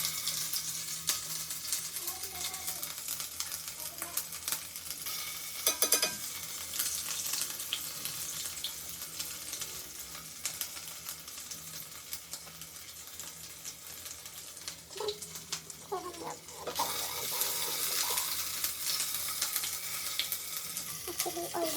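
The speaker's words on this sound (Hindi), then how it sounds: "अदरक लहसुन पेस्ट है, तो हम पहले ये डालेंगे।" Ginger garlic paste hitting very hot oil in a pan, a sustained sizzling hiss that swells louder toward the end, with a brief running-water sound partway through.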